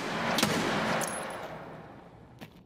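Video game gunfire in a tense shootout: a dense burst of shots at the start, trailing off into fading reverberation with one more faint report near the end.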